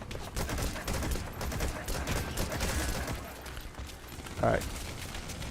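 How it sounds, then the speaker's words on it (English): Mortar fire pounds through a firefight in Metal Gear Solid V as a steady barrage of loud, rumbling blasts and rattling shots, with a brief spoken word near the end. "Those are mortars."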